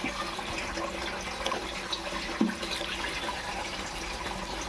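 Water pouring and splashing steadily into an air cooler's tank as it is filled, a continuous wash of liquid sound close by with a small splash partway through.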